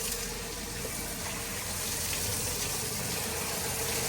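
Water gushing from a borewell pipe at a home, a loud continuous rushing flow with a faint motor hum underneath, steady and close throughout.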